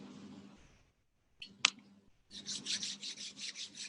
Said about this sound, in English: Take your hands in front of your heart, rub them against each other.